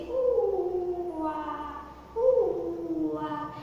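A human voice imitates jackals howling loudly, giving two long, wavering howls separated by a short pause, close and clear.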